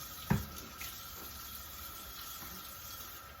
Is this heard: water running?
yes